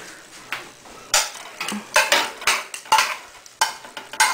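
Tongs shift pieces of roasting cauliflower around a hot pan, producing a series of close, sharp metallic scrapes and clacks in an uneven rhythm over a faint sizzle, with no talking.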